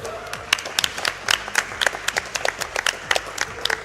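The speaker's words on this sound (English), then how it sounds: "yeah, you can clap" A small crowd claps at close range, and the claps come as irregular, sharp bursts. They rise and fall over a few seconds with no talking.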